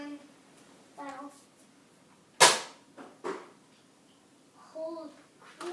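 A Nerf Rough Cut blaster fires darts in one sharp loud pop, followed by a softer second shot, with a voice chattering before and after.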